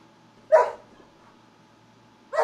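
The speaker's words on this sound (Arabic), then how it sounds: "هذا كلب" A dog gives two short barks about two seconds apart, close and clear against a quiet background, with no talking.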